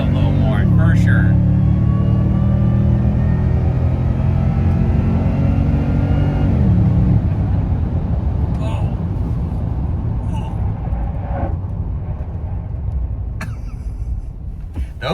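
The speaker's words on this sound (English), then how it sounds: "So we're bedding the brakes right now, guys." Second-generation Toyota Tundra pickup decelerating hard on new brakes, a loud steady road and engine drone that winds down over several seconds, heard from inside the cab with occasional voices.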